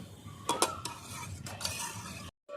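Cauliflower curry being stirred in a pan of hot oil, with soft scraping spatula strokes and clinks against the metal over a faint low sizzle, then a brief dropout.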